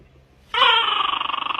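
A dog lets out a sudden loud, high whimpering yip that holds as a wavering, pulsing whine for about a second after brief near-silence.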